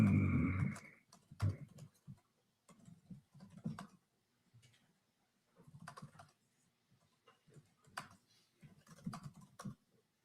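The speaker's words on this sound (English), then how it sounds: "He's typing a strongly worded letter." Typing on a computer keyboard, irregular bursts of soft clicks and key taps with short pauses between flurries, close and fairly quiet.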